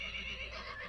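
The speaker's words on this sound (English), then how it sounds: "in a fenced-in area, was a large and elegant-looking horse" A large, elegant black horse in a fenced enclosure beside a small garden gives a short, bright whinny, loud and close, with no one speaking.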